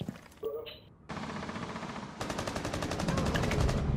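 Automatic gunfire rattles in the video game Rainbow Six Siege. Rapid shots come close and loud, first in a short burst and then in a sustained, steady stream.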